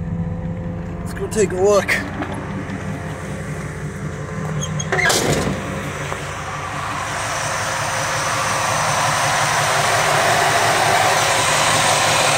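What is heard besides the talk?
SBC 383 stroker engine starting and idling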